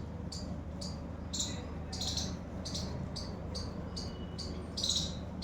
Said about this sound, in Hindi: ये आवाज़ तो अच्छी लग रही है, चिड़ियों की चहकने की आवाज़।